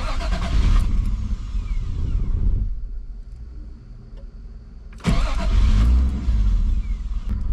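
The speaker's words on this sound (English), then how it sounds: "But we're gonna go ahead and start the car." A Toyota 7M-GTE engine cranks and catches, running loudly for a couple of seconds, dies down, then roars back to life with a second strong start, struggling to keep running.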